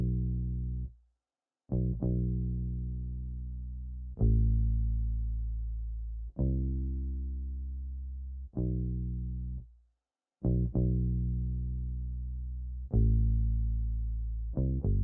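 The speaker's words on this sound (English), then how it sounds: "Then I added this bass that's just the root notes and sounds like this." A synth bass in FL Studio plays slow sustained root notes, each struck with a sharp attack and long decaying tail, roughly every two seconds, alone and fairly loud.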